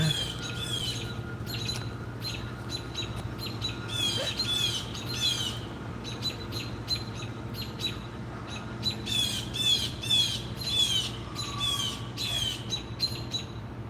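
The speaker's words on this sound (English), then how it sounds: "Blue Jays mobbing him." Blue jays mobbing another bird give repeated harsh squawks in rapid bursts, several birds calling over one another outdoors at moderate distance above a low steady hum.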